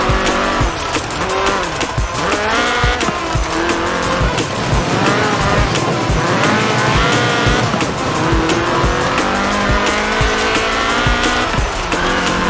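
Ford RS 1800 rally car in Forza Horizon 4, fuel-injected 1790cc Cosworth BDE engine screaming loud and close through rising and falling revs with tire squeal and skidding throughout.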